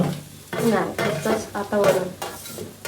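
Grated coconut sizzles in hot ghee for a sweet modak filling while a spoon stirs it in the pan, close and lively, in several quick scraping bursts.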